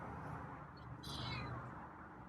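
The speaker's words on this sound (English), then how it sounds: "Okay, got a meow." A single soft cat meow rises briefly over a steady low background hum, faint and fairly close.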